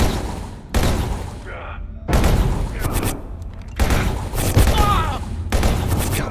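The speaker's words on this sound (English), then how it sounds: "I really like the battle rifles" Battle rifle fire in the video game Abiotic Factor comes in four loud, close bursts of rapid shots, each lasting about a second or more and separated by short gaps. A faint voice can be heard in one gap.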